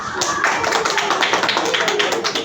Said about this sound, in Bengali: তাহলে হাততালি দাও